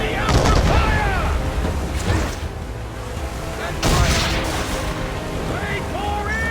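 Ship cannons fire in a naval battle in Assassin's Creed 3, heavy booming volleys rolling out over a wash of sea and wind while crew voices shout orders.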